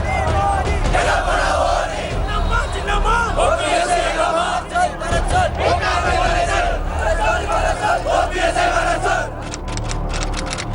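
A dense crowd of Jallikattu protesters at Marina Beach in Chennai chants and shouts loudly and without a break, with many voices merging into a roaring, rhythmic din.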